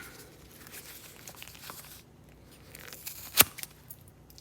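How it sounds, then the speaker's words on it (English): A CJRB Scoria folding knife slices through seat belt webbing with a brief rasping, tearing drag, ending in one sharp snap as the blade breaks through. "Let's get started going through the seat belt, see if we can cut through it."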